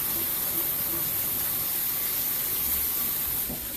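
Ground beef sizzling in a pan, a steady broadband hiss and crackle of frying meat, continuous and fairly close, with no talk over it.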